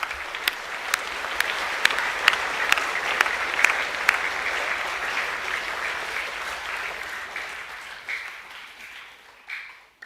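An audience at a school awards assembly claps steadily for several seconds, a dense patter of hands with a few sharper claps standing out, fading away at the end.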